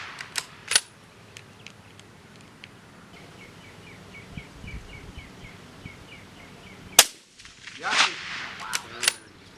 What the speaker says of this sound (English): Cole hit a spray paint can at 425 yards with his first shot, which I think is a testament to the rifle